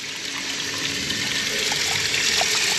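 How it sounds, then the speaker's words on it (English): Water rushes steadily through a homemade bucket sluice box for gold prospecting, a continuous close splashing flow that swells slightly louder toward the end, with no speech. "I can adjust the water flow, get more water going in there."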